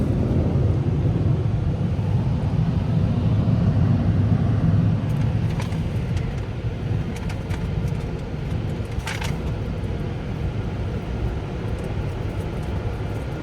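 The Water Wizard 2.0 at Sun Lover Car Wash in Slidell, Louisiana blasts water over a car in a loud, dense, continuous roar heard from inside, easing slightly partway through, with faint splatter.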